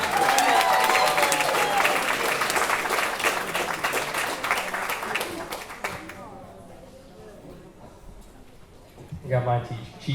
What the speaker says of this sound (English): a round of applause as he makes his way up here